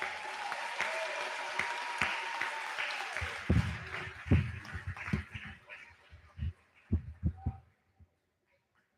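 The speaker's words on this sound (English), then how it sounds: "Give Ms. Williams' class a round of applause" A graduation audience applauds, the clapping swelling then thinning into scattered individual claps and dying out, with a few cheers early on.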